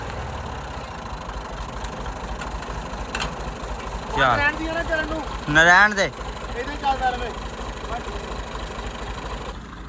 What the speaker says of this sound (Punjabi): ਉੱਥੇ ਆਵਾਜ਼ ਬੜੀ ਟਰੈਕਟਰ ਦੀ ਆਉਣੀ ਹੈ